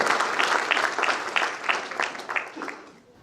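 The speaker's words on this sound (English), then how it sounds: "Give them a big round of applause for everybody." Audience applause at an Indian-American business meet, a crowd clapping loudly and steadily at moderate distance before tapering off in the last moments.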